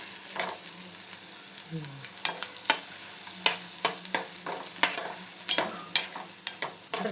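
Small chopped onions fry in a pan for biryani, giving a steady close sizzle broken by repeated sharp scraping and clinking stirs, with no one talking.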